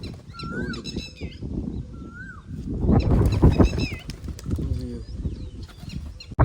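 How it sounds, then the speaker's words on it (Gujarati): Pigeons flap their wings in several bursts, with coos and chirps around them and people talking nearby. "બે કબૂતર આપણે પકડવાના હતા"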